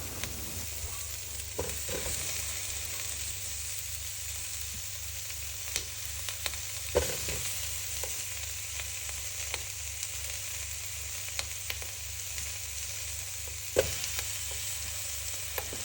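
Onions, cilantro, garlic and tomatillos fry in a pan for homemade salsa verde, a steady close sizzle with occasional small crackles and pops and no voices.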